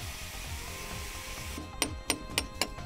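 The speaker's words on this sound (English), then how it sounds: "A chaise cutter can easily cut grooves as required." Chase cutter cutting grooves into an AAC block: a steady whirring grind fills the first half, then gives way to four sharp, evenly spaced scraping strikes, close and moderately loud.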